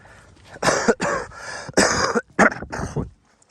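A person coughs repeatedly and loudly up close, a string of harsh, chesty coughs in quick succession, then silence.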